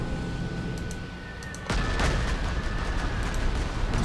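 A bombing attack in the World War II strategy game Panzer Corps 2: a low rumbling bed suddenly gives way to a loud, broad blast of explosive fire that lingers as sustained rumbling, with a few faint sharp ticks above.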